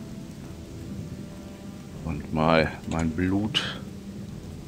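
Steady rain with rumbling thunder in the game Odyssee – Im Auftrag des Königs, a constant wash throughout with someone speaking German briefly over it.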